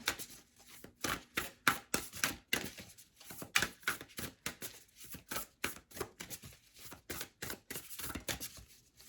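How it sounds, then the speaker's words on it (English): Rapid rustling tarot card shuffles come in quick bursts, a steady flurry of crisp riffles close by with short pauses between runs. "I am going to shuffle."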